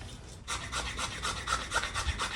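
Dry, hard dogwood being scraped, a steady series of close, rhythmic raspy strokes repeated about ten times in quick succession.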